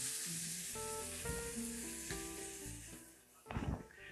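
A chunk of meat sears on a hot cooking surface, a steady sizzle running under loud background music, with a brief louder burst of frying near the end.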